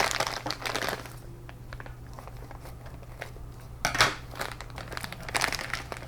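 A plastic bag of parts from a Tamiya Blockhead Wild One RC kit is cut open and handled, with crinkling plastic rustling steadily up close and a sharper crunch partway through, no talking.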